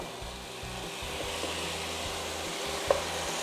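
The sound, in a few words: apples sizzling in melted butter and honey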